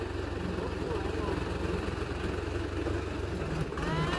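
A tractor engine idles and runs in farm fields during the wheat harvest, giving a steady low mechanical rumble throughout that stays fairly close, with some background noise.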